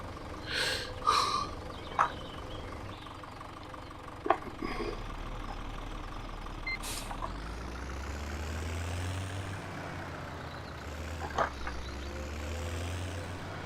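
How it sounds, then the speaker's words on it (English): An old, beat-up tractor engine in a farming video game rumbles low and steady, idling with a knocking rumble that swells and shifts in pitch partway through, with a few sharp clicks earlier on. "This is an old beat up tractor."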